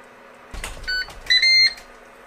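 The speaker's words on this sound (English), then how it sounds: "Ten minutes are up, the unit beeps" A few short electronic beeps from a Ninja Foodi Digital Air Fry Oven as its timer ends, a single tone followed by a longer double beep, clear against a quiet background hum.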